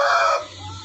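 Chicks roughly a month old in a small backyard coop give a short burst of clucking and cheeping, close and fairly loud, then drop to a low background hum.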